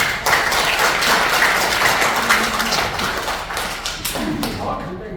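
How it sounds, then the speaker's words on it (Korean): Applause from an audience at a Korean political academy lecture, fairly dense clapping with some louder thuds, gradually thinning out over about five seconds. "박수 한번 주세요"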